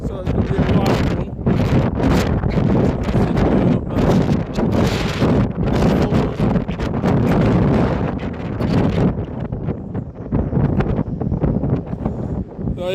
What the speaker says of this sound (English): I think it's 60-70-mile-an-hour winds tonight. So it's going to be a wild one.